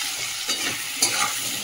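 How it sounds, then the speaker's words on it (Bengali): Potato pieces frying with salt and turmeric give a steady close sizzle with light stirring scrapes, two brief louder stirs standing out, no talking. "চলো আলুটা ভাজা হোক।"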